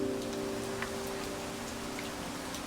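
Steady rain falls continuously on a surface, with soft scattered drops and a faint low hum beneath, evening ambience at the Rashomon gate.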